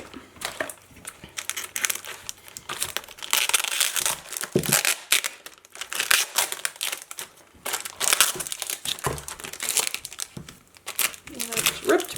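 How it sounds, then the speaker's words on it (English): Crinkling, crunching paper and packaging handled close up during a planner unboxing, including Bristol board being torn, in repeated bursts of rustling and crumpling. "And I just ripped my Bristol board."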